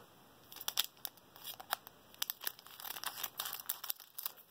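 Scissors snip and crinkle through a foil card pack wrapper and mail packaging, close and quiet, with irregular clusters of sharp cuts and rustles and no talk.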